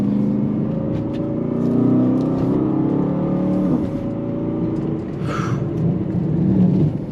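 An Aston Martin DBX 707 SUV cruising on country roads, with a steady low engine drone and road hum throughout, a slight swell partway through and no talking.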